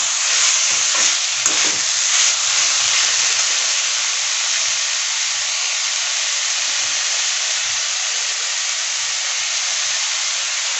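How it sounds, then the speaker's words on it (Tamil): Chopped tomatoes for vada curry sauté in a pan with a loud, steady, bright sizzle and hiss, plus a few stirring scrapes early on, close and continuous. "இப்போ பொடியாக கட் பண்ணி வச்சுருக்கிற தக்காளி சேர்த்துக்கலாம். அதையும் நல்லா வதக்கி விட்டுருங்க."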